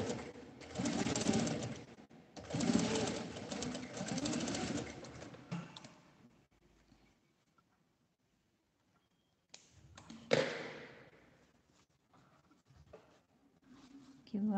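A sewing machine stitches the lining of a small handmade card and coin purse, running in two long steady bursts, then pausing before a shorter run, fairly close and clear.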